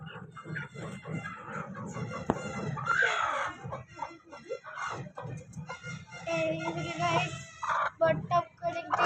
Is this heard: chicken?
yes